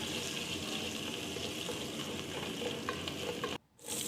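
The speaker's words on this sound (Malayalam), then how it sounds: "വെളിച്ചെണ്ണ ഒന്ന് ചൂടായി വരുമ്പോഴേക്കും അതിലേക്ക് കടുക് ഉലുവ എന്നിവ ചേർത്ത് കൊടുക്കുക ഇനി അതിലേക്ക് ഇഞ്ചി വെളുത്തുള്ളി ചേർത്ത് കൊടുക്കുക" Mustard seeds, fenugreek, ginger and garlic sizzle in hot coconut oil for a Kerala-style prawn curry. A steady, close crackling hiss runs throughout, then drops out briefly near the end.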